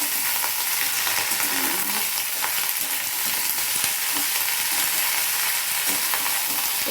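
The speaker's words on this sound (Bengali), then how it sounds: "আমি চিচিঙ্গাটা দিয়ে দিলাম। এবার এটা একটু নাড়াচাড়া করে নিচ্ছি।" Snake gourd sizzles steadily in a hot pan as it is stirred, a dense, even frying hiss with occasional scrape and clatter of the spatula throughout.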